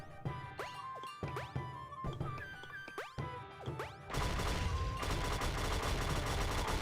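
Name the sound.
shooting in the video game Game Builder Garage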